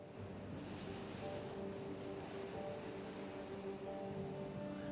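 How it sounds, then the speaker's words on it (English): Steady water runs in the video game Timberborn, a constant broadband rush like surf or a flowing stream that holds evenly throughout, with faint tonal game sounds layered over it. "Let that water run back through."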